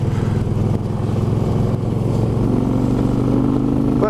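A motorcycle rides along a road in cold weather, its engine holding a steady, close drone with a rough, buzzing tone throughout.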